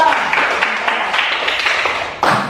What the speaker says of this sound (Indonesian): Oke, tepuk tangan Bram.